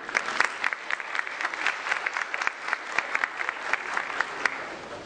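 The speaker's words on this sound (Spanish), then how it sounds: "Recibamos con un fuerte aplauso al doctor Fabián Pettigrew." Audience applause welcomes a speaker at an international workshop on market power regulation, a dense, even clapping from a sizeable room that holds steady for about five seconds with sharp individual claps poking through.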